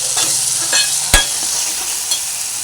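Tomatoes cooking down in a pan, sizzling steadily with a few sharp scrapes of a spoon stirring through them, close and clear with no talking.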